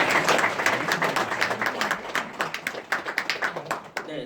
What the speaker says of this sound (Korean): 우리 꽝맨님 박수 부탁드립니다